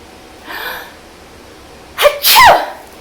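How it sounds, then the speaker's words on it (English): A soft intake of breath, then a single loud, sharp sneeze bursts out close by, followed by silence. "What do you think is going to happen when I sneeze?"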